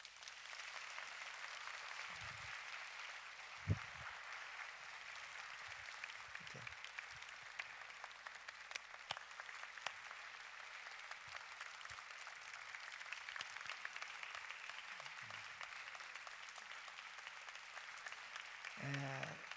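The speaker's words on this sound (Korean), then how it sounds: "다시 한번 우리 박수로 격려해 주겠습니다." A church congregation applauds at a Sunday worship service in a steady, sustained wash of clapping that runs throughout, heard from some distance and fairly soft, with a few low knocks and murmurs beneath it.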